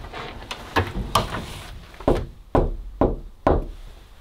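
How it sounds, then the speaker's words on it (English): Knocking on wood during a paranormal investigation at a haunted Nottingham Robin Hood site: a few light raps, then four loud, evenly spaced single knocks close by, with no talk. "Let me just knock it again."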